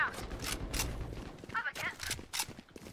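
Video game gunfire: several sharp, separate shots burst out at irregular intervals, crisp and fairly close, with scattered clicks and thuds between them.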